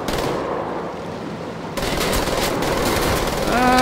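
Sustained distant gunfire in the World War II shooter Wolfenstein: The Old Blood, a dense rattle of automatic weapons around a castle keep, steady and continuous with no pauses.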